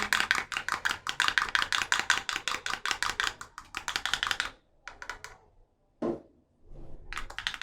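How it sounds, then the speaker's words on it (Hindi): An egg is beaten briskly with a utensil in a bowl for a chicken sandwich recipe, making rapid, even clicking taps in a steady rhythm, close and clear, that pause briefly and then resume. "इसको अच्छी तरह फेंट लेंगे।"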